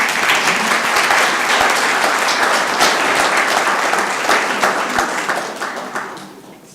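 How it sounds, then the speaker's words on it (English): A city council chamber audience gives a round of applause after a proclamation, with loud, crisp clapping from many hands that fades away at the end. "Let's give them another round of applause, folks"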